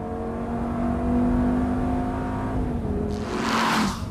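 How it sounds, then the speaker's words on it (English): Lamborghini Gallardo engine running on the Sachsenring circuit, a steady loud drone that climbs slightly in pitch, then a brief rushing burst near the end; no talk. "the Lambo is too loud according to the Sachsenring's regulations"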